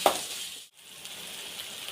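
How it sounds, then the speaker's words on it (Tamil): Country chicken masala sautéing in a pan with mustard seeds and cumin, a moderate sizzling hiss that briefly drops out and then resumes, with a soft clink at the start. "வதக்கி விட்டுக்கலாம்."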